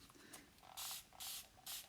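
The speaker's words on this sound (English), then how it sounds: "I'm gonna spray this real quick" Three quick squirts of water from a spray bottle onto a Chalk Couture hexagon board, each a short, crisp hiss evenly spaced, close and fairly quiet.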